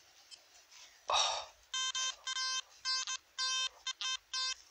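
A metal detector sounds while someone digs for WWII Wehrmacht relics near Gdańsk: one scraping thud, then a run of close, repeated electronic beeps of uneven length.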